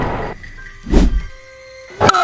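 In a backyard game a bat meets a ball, giving two dull wooden thunks about a second apart, loud and close, with quiet pauses between them.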